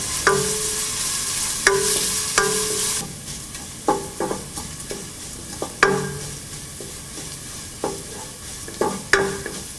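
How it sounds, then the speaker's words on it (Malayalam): Curry leaves, ginger and green chilli sautéing in hot oil for a garlic pickle, a continuous close sizzle broken by frequent scraping stirs and spoon taps against the pan. "ഇതിലോട്ട് നമ്മൾ എടുത്തു വച്ചിരിക്കുന്ന കറിവേപ്പില, ഇഞ്ചി, പച്ചമുളക് എന്നിവയിട്ട് നന്നായിട്ട് വഴറ്റുക"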